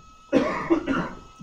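A single close cough, a short burst with a rough second pulse, in an otherwise quiet room during a live calculus stream.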